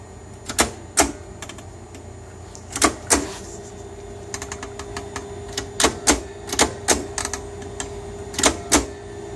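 A Wright Line 2629 alphameric card punch punches cards in sharp, loud mechanical clacks, arriving singly and in quick clusters with short pauses between, over a faint room hum.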